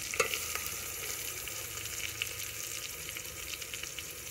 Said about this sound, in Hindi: घी हमारा जो है ना फुल तिरकाटे मार रहा है, अभी इसके अंदर हमने प्याज जो है वो डालने हैं